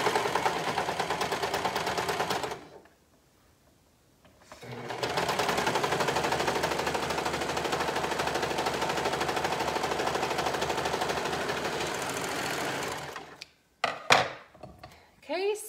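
A sewing machine stitching fabric in fast continuous bursts, with a short pause and a longer steady run before it stops and a few handling clicks follow.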